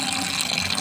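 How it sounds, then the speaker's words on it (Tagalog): Strong, steady rush of water pouring from a tap at a plantation site, drawn from a source below; a dense, continuous splashing flow, close and fairly loud, with no talking. "Ang lakas ng tubig."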